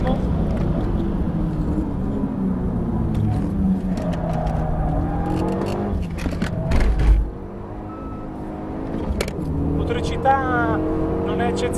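A Renault Megane RS engine on the Monza circuit runs near maximum revs in fifth gear, a loud, rising mechanical whine heard from inside the car. Someone talks steadily over it.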